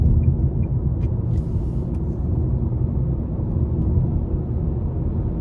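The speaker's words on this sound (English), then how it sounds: "I just like the sounds that the vehicle makes. It's not too loud, it just drives normally." 2024 Nissan Sentra SV with its 2.0-litre four-cylinder and CVT cruising along, a low, even cabin rumble of engine and road noise, subdued and unchanging with a few faint clicks.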